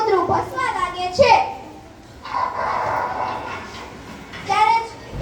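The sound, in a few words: child imitating a dog barking in a school play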